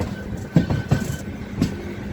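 Anga Express passenger train rolling on rails, heard from inside the coach as a steady low rumble with several distinct wheel clacks over rail joints.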